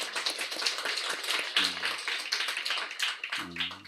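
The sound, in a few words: congregation applause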